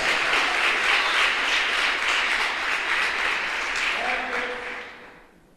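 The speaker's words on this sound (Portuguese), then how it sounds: "Você pode aplaudir o Senhor?" A church congregation gives sustained applause, steady and full for several seconds before fading out at the end.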